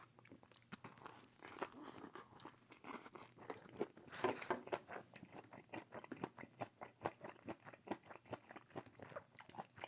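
Chewing a Filipino Ilocos empanada stuffed with papaya, vegetables and ground pork, close crisp crunching bites followed by a steady run of rhythmic wet chewing, heard alone and near.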